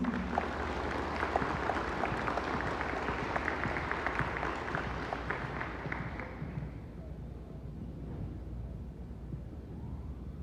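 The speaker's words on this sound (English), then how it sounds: "let's give her another round of applause" A round of applause for a graduating student at an eighth-grade graduation ceremony, a soft, distant wash of many hands that fades out about two-thirds of the way through, leaving a low hum.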